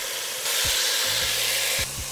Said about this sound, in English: We're going to sear it in batches.